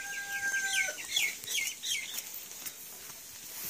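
Chickens clucking softly while being fed grain at Dera Shoaib, a faint scatter of short clucks and calls over quiet outdoor background.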